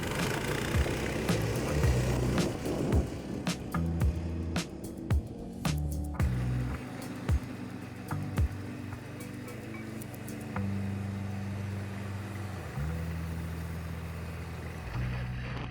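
An electric motorized sled converted from an engine-powered one accelerates with a rising, wavering motor whine and rumbling hum. Clicks and knocks sound through the steady run.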